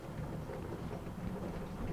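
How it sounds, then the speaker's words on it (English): Heavy rain pours down steadily in a dense, even hiss with a low rumbling undertone, faint but constant throughout and with no voices. "it is raining like crazy."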